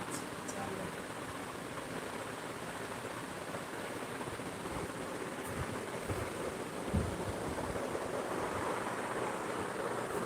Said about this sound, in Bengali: জানলা থেকে খুব সুন্দর হাওয়া